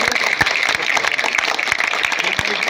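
A crowd at a political rally in Unnao claps loudly to welcome a minister, a dense continuous roar of applause with sharp individual claps standing out close by.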